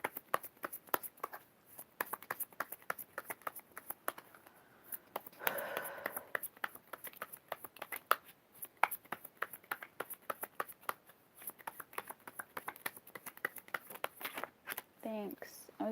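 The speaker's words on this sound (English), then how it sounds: "I was getting tired of shuffling." Cards riffle and snap in quick, crisp bursts, close and fairly quiet, with occasional soft voices in between.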